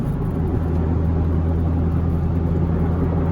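Steady, low droning exhaust of a straight-piped Corvette Z06 cruising in sixth gear, a constant even rumble from inside the car with no revving or change in pitch.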